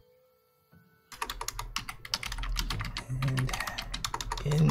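Rapid computer keyboard typing starts after a quiet second and runs as dense, close clicking to the end, over a video game's low background sound; a brief spoken word comes near the start.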